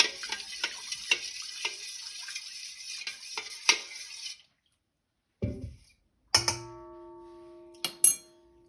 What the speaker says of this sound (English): I'm gonna give it another stir